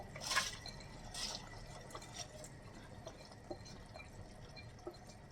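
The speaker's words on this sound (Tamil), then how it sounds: "இப்போ தண்ணி நல்லா கொதிக்குது." Quiet bubbling of water boiling in a pot for vegetable biryani, with soft scattered pops and a few brief splashy bursts near the start.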